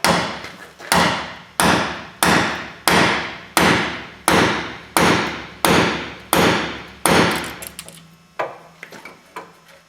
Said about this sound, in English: big hammer and keep swinging